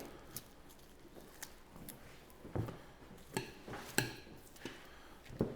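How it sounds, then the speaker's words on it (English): A knife tip working along the bone of a deer or beef roast to debone it, giving sparse, close scraping and tapping clicks at an irregular pace against quiet background, with no talking. "we'll just using the tip of the knife now, stay right along the bone"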